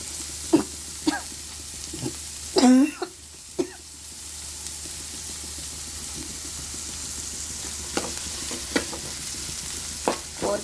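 Ground coriander paste with ginger and garlic frying in a pan for a taro curry, a soft steady sizzle with sparse stirring taps and a brief cough.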